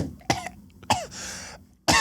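A man coughs sharply three times with short gaps in between, close to the microphone, with a rough breathy sound after the second cough.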